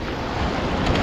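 Sea waves washing onto a beach on the Konkan coast at Ratnagiri during the rainy season, a steady broadband roar of surf with wind buffeting the microphone, close and continuous.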